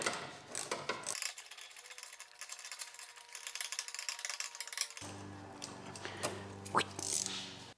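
A ratchet fitted with a 5.5 mm socket turns in quick clicking bursts to loosen an air filter clamp on an NC1 Acura NSX, close and fairly quiet, with a silent gap in the middle and no talking.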